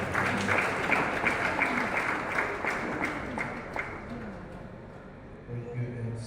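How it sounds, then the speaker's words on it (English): An audience at a diocesan health assembly in Masaka claps for an introduced guest, a fairly faint, steady patter of hands that thins out toward the end as a voice resumes. "If you want, you can clap for him."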